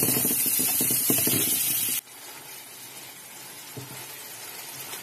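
Chili powder, coriander powder, turmeric and green chili sizzle loudly in a hot pan while being stirred, a dense hiss that drops abruptly to a quieter, steady frying after about two seconds.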